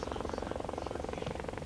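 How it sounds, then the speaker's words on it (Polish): A helicopter approaching to land at a stadium, giving a steady fast rhythmic chopping of rotor blades with a continuous engine drone, heard at moderate loudness. "Widzimy już charakterystyczny helikopter, który za chwilę wyląduje na stadionie KS Beskid"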